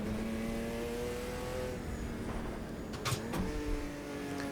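Racing car engine from the sim game Automobilista 2 droning at steady pitch in an even, continuous hum, with a brief sharper burst near the end as revs rise.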